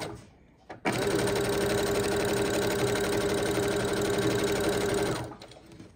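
Sewing machine stitching quilt blocks, a loud, fast, steady mechanical whirr and rapid needle chatter that starts abruptly and runs for several seconds before stopping.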